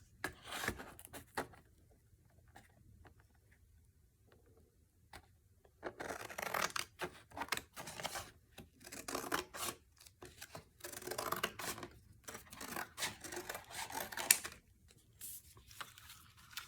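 Scissors snip and rasp through old book pages for a junk journal, a run of close, quiet cutting strokes and paper rustles, sparse at first and then busier and steadier.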